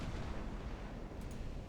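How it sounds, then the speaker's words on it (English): Heavy naval gunfire from battleship guns in the Ultimate Admiral: Dreadnoughts game, a dense, continuous low rumble of booming shots rolling together, loud with no clear gaps, plus a couple of brief high clicks near the end. "Gunfire."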